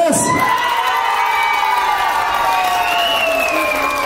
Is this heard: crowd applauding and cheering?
yes